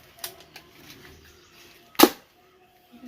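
A toy soft gun fires once with a single sharp pop, surrounded by a few faint clicks and handling noises in a quiet room.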